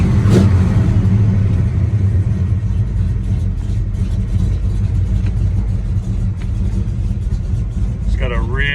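A 1967 Chevy Chevelle SS 396 V8 engine rumbles loudly and steadily nearby, with a brief voice near the end over the running engine.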